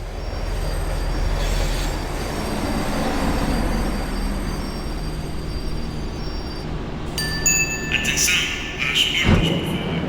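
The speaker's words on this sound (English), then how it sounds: "The tram was slowing down, and I'd only just gotten on board." Tram in the Max Payne 3 game slowing down, a steady rumbling ride that builds to high metallic wheel squeals toward the end, while a voice narrates over it.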